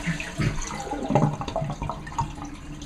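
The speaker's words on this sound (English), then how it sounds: "Next thing you want to do is flush it." Water drains out of a toilet tank after a flush, a close, continuous gurgling and splashing rush through a bathroom fixture during basic toilet repair, with no talking.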